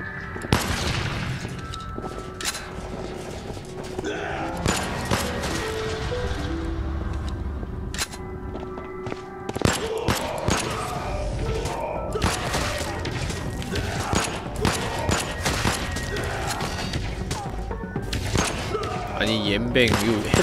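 Gunfire in the video game Void Bastards: a run of sharp, loud shots and thumps scattered irregularly across the stretch, mixed with game sounds and someone talking throughout.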